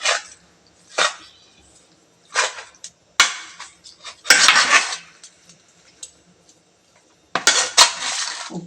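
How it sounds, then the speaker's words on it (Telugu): Fish pieces are mixed with salt and chili in a dish, giving intermittent bursts of close clattering and scraping against the dish, separated by quiet gaps. "ఈ ఉప్పు, కారం చేపలను బాగా పట్టేలా కలుపుకోవాలండి."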